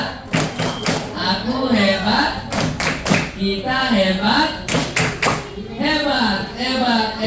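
A group performs the rhythmic Indonesian 'tepuk hebat' clap, sharp claps landing in quick patterned bursts between stretches of chanted voices during a training session.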